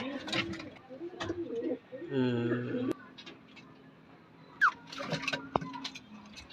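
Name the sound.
male breeder pigeons cooing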